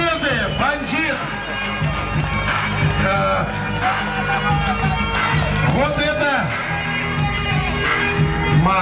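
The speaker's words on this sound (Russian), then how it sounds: "Аплодисменты!" Audience at a fight event cheering and clapping amid a loud, dense crowd roar, with amplified announcer-style talk over it throughout.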